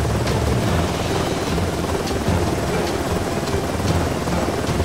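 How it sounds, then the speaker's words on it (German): Heavy rain pours down in a steady, dense roar that fills the whole clip without a break. "dennoch regnet es weiterhin sehr stark"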